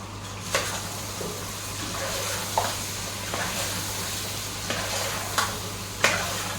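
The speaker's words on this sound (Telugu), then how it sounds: "కొద్దిగా టమాటో ప్యూరీ కూడా వేద్దాము దీన్ని కూడా బాగా కలుపుతున్నాము" Tomato puree stirred into mutton curry in a pan makes a soft, steady sizzle, with a handful of spaced spoon scrapes and taps against the metal over a low constant hum, close and fairly quiet.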